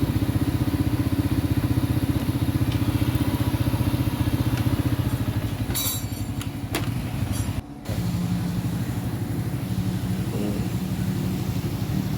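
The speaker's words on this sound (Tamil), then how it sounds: "மோட்டர் புது மோட்டர் சத்தம் மாதிரியே இருக்கும்." A restored Honda EX5 motorcycle engine idles close by with a steady low throbbing putter, broken by a few brief clicks and a short dip midway before settling back to an even idle.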